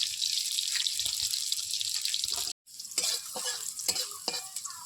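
Radhuni spice seeds and garlic sizzle in hot oil in a kadai, a close, steady frying hiss with a few stirring clicks and a brief gap midway.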